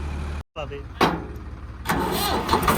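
A stuck tractor's engine labours and revs under load during a tractor pulling contest. The rough mechanical roar surges after a brief dropout, and voices are heard over the engine.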